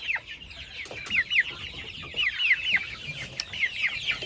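Broiler chickens cluck in a steady run of short, repeated calls close by, with no talking.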